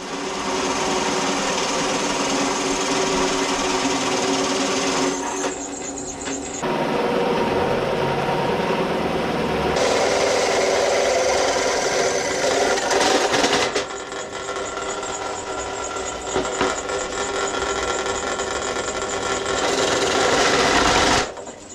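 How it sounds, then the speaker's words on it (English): A drill press runs with a steady, loud mechanical whir and grinding throughout, shifting in pitch as the bit bites into old pallet wood, with brief pauses and no talking. "Drill press is ready to go"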